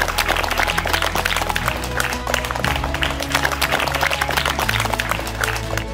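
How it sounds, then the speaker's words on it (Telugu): A crowd of schoolchildren and guests keeps up loud, continuous applause in a hall to welcome an education officer, with a dense, unbroken patter of claps over a low sustained musical drone. "గట్టిగా క్లాప్స్."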